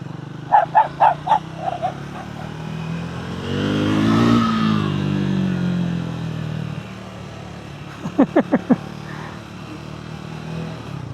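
A dog barks in two short bursts of several sharp barks, with a passing vehicle engine swelling and fading in between.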